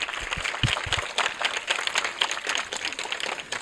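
An audience of schoolchildren applauds at a tree-planting school event, a continuous spread of scattered claps at moderate volume with faint background voices.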